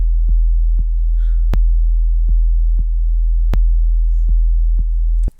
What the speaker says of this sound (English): shorten this kick at the E0 to make it kind of a quick kick with a short or relatively short decay